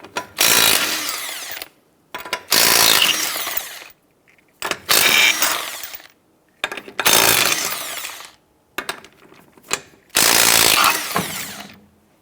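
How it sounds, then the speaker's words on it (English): Ratchet with a 21mm socket loosening lug nuts on a 2008-2013 Nissan Rogue, loud close bursts of rapid clicking repeated about five times with brief gaps between them. "loosen and remove the lug nuts"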